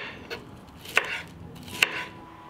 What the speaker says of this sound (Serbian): Zatim ću iseći 3 paprike.